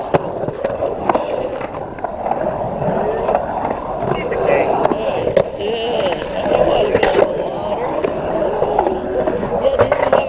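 Skateboard wheels roll and grind steadily on concrete, loud and close, with wind buffeting the mic.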